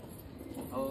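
Pigeons on a rooftop give a brief, faint cooing, with a voice speaking close by toward the end of the short moment.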